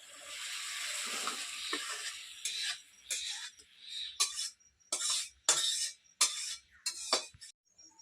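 Food is stirred in a pan while cooking a Bengali bottle gourd ghonto with tangra fish kofta, heard as a soft sizzle followed by irregular scraping strokes and light metallic clinks of the utensil against the pan.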